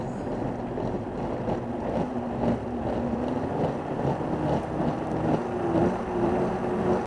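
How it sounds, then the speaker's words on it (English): Blender pureeing hot red chile sauce, a steady churning whir that holds at a dense, even level with a slight rising pitch as it ramps up, close and continuous with no voices. "We're gonna blend this up into our sauce."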